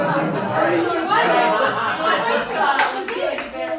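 An audience at an improv comedy show breaks into steady applause, with chatter and a little laughter mixed in, the clapping close and full throughout.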